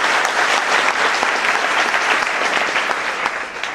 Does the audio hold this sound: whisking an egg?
no